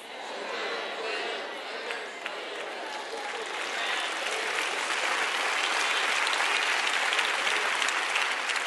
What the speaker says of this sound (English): Thank all of y'all for clapping right there.